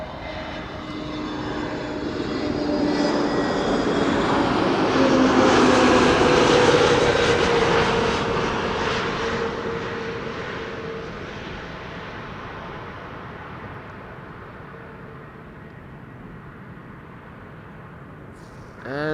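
Airbus A321neo arriving from Corfu to land at Amsterdam Schiphol, its engine roar and whine swelling loudly as it passes close overhead, then fading into a long, steady rumble.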